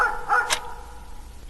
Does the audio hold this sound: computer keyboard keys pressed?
no